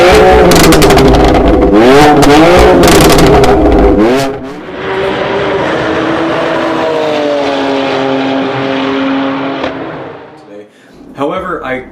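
A BMW S55 inline-six from an M3/M4 revs hard, its raspy roar loud and close at first, then it settles into a steadier rising drone that fades out toward the end. Some talking can be heard.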